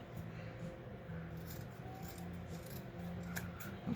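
Scissors snip through fabric while a stuffed carrot is shaped, quiet intermittent cutting and rubbing strokes close by with faint background handling.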